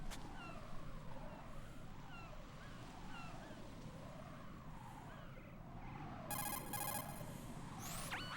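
A warbling, wavering electronic call tone from a phone in Metal Gear Solid 2 cycles steadily over low game ambience, followed near the end by sharper bright digital chirps.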